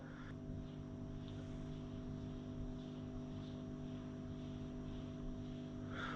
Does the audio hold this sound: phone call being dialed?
no